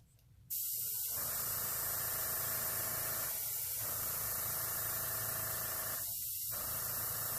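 An airbrush air compressor vents moisture with a sudden, loud, steady hiss that starts abruptly and runs continuously, with a couple of brief dips in the flow.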